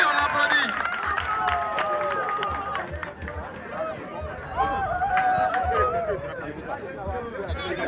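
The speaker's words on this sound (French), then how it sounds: "On l'applaudit, on l'applaudit." Audience clapping and cheering at a gas-cylinder fire demonstration, a sustained crowd roar with scattered claps and busy chatter throughout, voices calling out over the noise.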